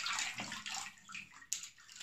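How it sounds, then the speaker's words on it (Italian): Lukewarm water splashed onto skin at a basin before a shave, a few close, brisk sloshing splashes with a sharp splash near the end, no talking. "bagno la pelle con acqua tiepida e passo al montaggio con insaponamento"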